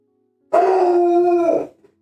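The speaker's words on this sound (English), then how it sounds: "What are you barking at?" One dog lets out a long drawn bark that stretches into a brief howl-like tone, close and loud, ending with a faint trailing yip against silence.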